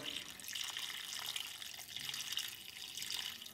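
Water from a tap runs steadily into a cooking pot as one liter is added to smoked pork, potato halves, bamboo shoot juice and chilies for an Ao Naga dish, a continuous close splashing pour with no talk.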